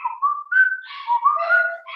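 A person whistles a melody imitating a parrot's whistle of the opening of a song, a bright, wavering tune of gliding notes across two seconds, clear and close with no talk.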